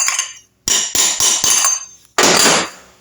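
A box spanner serving as a drift taps a timing pinion onto a Triumph Trident T160 motorcycle engine, giving a quick series of sharp, close metallic knocks followed by one harder, ringing strike.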